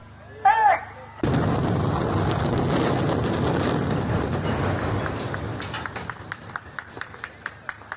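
A building demolition blast from an old film of a Pune demolition hits suddenly and loud, then rolls on as a broad, sustained rumble that slowly fades into scattered sharp cracks and debris snaps.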